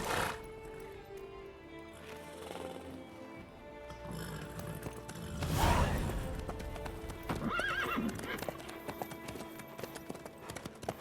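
Horse hooves clip-clop in the video game The Witcher 3, a steady rhythmic trot with a neigh partway through, heard close amid game ambience and music.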